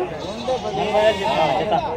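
Several goats and kids bleat over a busy crowd at a livestock market, their wavering calls overlapping with the murmur of voices nearby.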